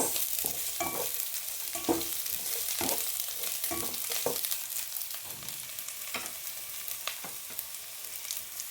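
Onion frying in a pan for a Filipino coconut chicken curry, a steady broadband sizzle with intermittent spoon scrapes and clinks as it is stirred, moderately loud and continuous with no talking.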